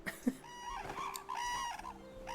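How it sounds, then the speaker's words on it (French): Pigeons coo and cluck in the online fantasy game Swords of Legends Online, a soft, warbling bird call that rises and falls over a low background of game ambience, with no talk. "Oh, des pigeons."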